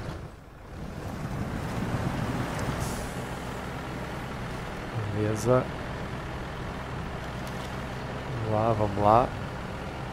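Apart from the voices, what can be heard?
truck engine accelerating through mud in SnowRunner video game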